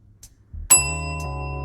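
A bright notification bell ding rings out cleanly and sustains with a shimmering decay after a brief soft thump, a single close chime standing alone.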